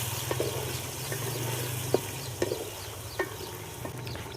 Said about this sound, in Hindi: अब मैरिनेट किया हुआ चिकन शामिल कर देंगे